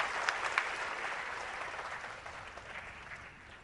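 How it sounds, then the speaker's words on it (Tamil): Audience applause fills a theatre at a Tamil film audio launch, a steady clapping wash that stays moderately loud throughout with a few sharper claps early on. "நல்லா கரகோஷம் கொடுங்க."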